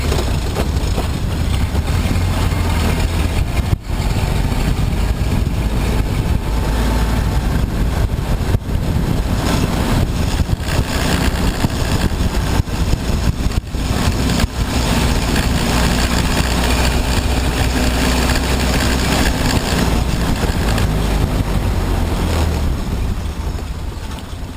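A 1928 Model A Ford engine running while driving on a highway, a low continuous rumble mixed with heavy wind buffeting, steady and loud for the whole stretch.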